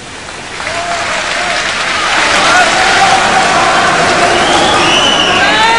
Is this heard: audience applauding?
yes